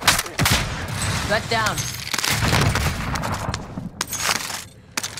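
Video game gunfire: sustained, rapid volleys of shots crackle continuously at close range, mixed with a voice speaking briefly over the shooting.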